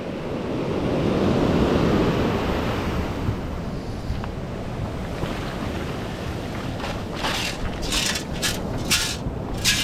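Ocean waves wash onto a beach, a near, full surge that swells early and then settles into a rushing hiss, with wind buffeting the microphone and a few sharp gusts near the end.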